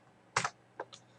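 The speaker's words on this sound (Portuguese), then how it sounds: "Vamos ver se eu digitar C." Letter C typed on a computer keyboard, heard as a quick cluster of close, crisp key clicks followed by two lighter taps in a quiet room.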